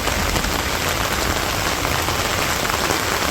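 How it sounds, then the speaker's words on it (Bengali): Heavy rain falls on a village rooftop, a dense, loud, unbroken patter and hiss of drops on surfaces with only light wind and no voices. "একবারে নিচ দাও পানি, একবারে ডল ছড়ছে, এত বৃষ্টি হইতেছে,"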